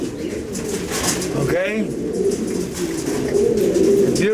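Racing pigeons in a pet shop coo with low, rolling warbles, close by and repeating through the clip, while a person speaks briefly over them amid background chatter.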